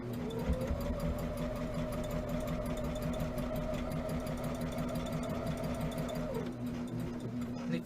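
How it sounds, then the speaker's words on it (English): A sewing machine runs steadily while stitching quilt seams, a continuous mechanical hum and rapid needle clatter at an even pace that winds down near the end, close and moderately quiet with no talking. "I'm sewing so that my seams are sewn down."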